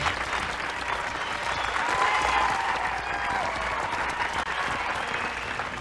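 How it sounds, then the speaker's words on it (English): A crowd at a 1992 round card girl championship applauds the contestants, with sustained, loud, even clapping lasting several seconds and cheering mixed into the steady wash. "How about a round of applause for these lovely young ladies, contestants number 10 through 18."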